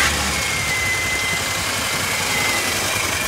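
A Ford F-150 engine packed with limestone runs at a steady idle, giving a loud, continuous rumbling drone with a faint whine over it and no voices.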